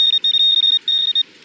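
Metal detector on a beach in Krynica giving a loud, close high-pitched tone broken into rapid stuttering pulses as it passes over a coin.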